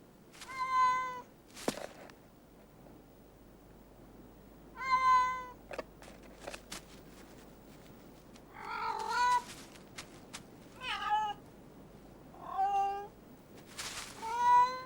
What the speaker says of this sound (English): It begins with the female coming on heat and calling to the males.